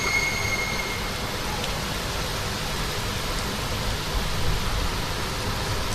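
Steady, dense rainfall during a storm hisses continuously, close and fairly loud, with no voices, just an even wash of falling rain.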